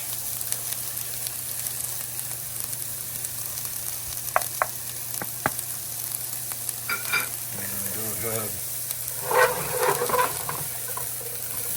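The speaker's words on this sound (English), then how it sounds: "Saute this down" Onion, pepper and garlic sauteing in a pan in a home kitchen in the Philippines, a steady sizzle with scraping stirs and occasional clinks of a utensil, close and moderately loud with no talking.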